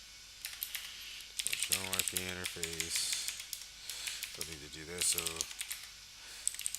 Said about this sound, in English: I don't know if you guys hear my new keyboard in the background.